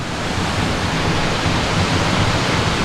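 A Norwegian waterfall roars as a dense, loud, continuous rush of falling water, with no voices or other sounds over it.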